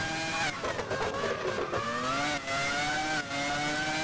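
Formula One car engines from the PlayStation 2 racing game F1 2001, a loud sustained high-pitched whine rising and falling through gear changes, with brief dips between shifts.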